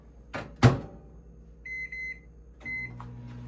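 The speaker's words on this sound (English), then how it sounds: "Put it in the microwave." An older microwave oven with worn buttons is started after a couple of sharp clunks of the door and keypad, followed by short electronic beeps and a low steady hum, close by in a quiet kitchen.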